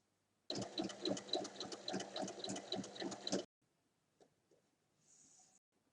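A sewing machine stitches fabric strips together in a close, rapid run of rhythmic needle clatter for about three seconds, then stops, followed by a few faint handling clicks.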